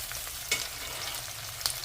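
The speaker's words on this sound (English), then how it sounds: "So let us fry these onions for a while until it turns" Roughly chopped onions frying in a pan for paneer butter masala, a steady soft sizzle with a couple of brief scraping stir sounds, no talking.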